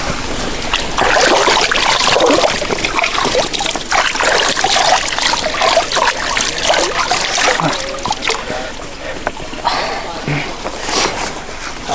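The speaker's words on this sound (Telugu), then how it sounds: "అక్కడికి వెళ్ళి శుభ్రంగా కడిగేసుకుందాం ఆ నీటితోటి" Chicken being washed in a stream in the wild, with steady running and splashing water that stays loud and close throughout.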